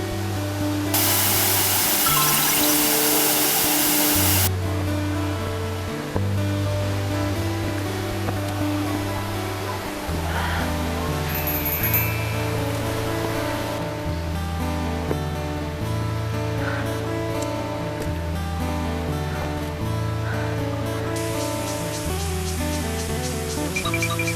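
Rushing water from Wufengqi Waterfall in Yilan pours in an unbroken hiss and rumble, loud and close, with soft music playing underneath and nobody speaking.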